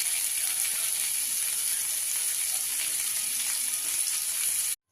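Potatoes frying in a pan ahead of eggs, a steady, dense hiss of oil sizzling at close range, cutting off abruptly at the very end.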